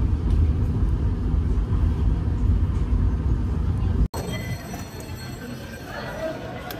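A train rumbles at a station platform with low, steady rolling noise and faint wheel squeal, then cuts abruptly to quieter platform ambience carrying distant hum and scattered background sounds.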